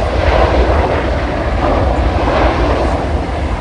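A large passenger airliner of about 250 tonnes at Dhaka's Shahjalal International Airport, its jet engines producing a loud, steady, broad roar with a deep rumble beneath, unbroken and close, no voices.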